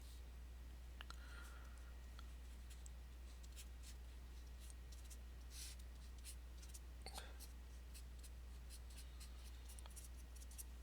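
Someone writes out a maths example on limits and continuity by hand; faint, sparse scratchy strokes come and go over a steady low electrical hum, with no talking.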